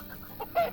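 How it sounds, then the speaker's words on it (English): A single brief chicken cluck from the farm video game Farm Manager 2018, heard up close and alone. "Obviously we've got to get some stuff for the chickens so we can feed them."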